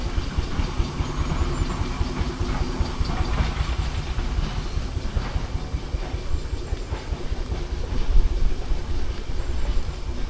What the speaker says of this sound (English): Oh, there's another steam engine going on.